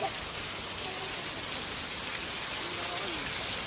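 Steady rain falling outdoors, a continuous broadband hiss of drops on surfaces that holds at an even moderate level throughout, with no voices in the foreground.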